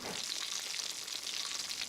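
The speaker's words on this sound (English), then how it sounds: "seared in a hot pan with olive oil" A close, steady sizzle of a fish fillet searing in a hot pan with olive oil, a bright crackling hiss with no voices over it.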